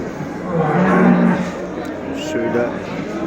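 A large cow at a livestock market in Göksun, Kahramanmaraş, gives a loud drawn-out moo, with people talking nearby and general market chatter around it.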